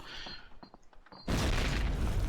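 A grenade blast in Call of Duty: United Offensive during a competitive match: light clicks and ticks, then a sudden loud booming explosion that rumbles and sustains to the end.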